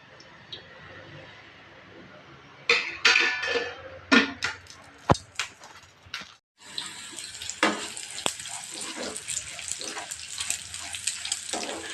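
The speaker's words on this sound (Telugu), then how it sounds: "ఇప్పుడైతే పోపు చేసుకుంటాను" A few clattering knocks and bursts, a brief pause, then chana dal, urad dal, green chillies and curry leaves hit hot oil and a loud, steady sizzling hiss takes over.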